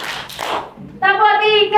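Children's voices chant a counted clap rhythm in an Indonesian classroom, with a burst of hand claps and chatter followed by a sustained sung, pitched group voice; loud and close.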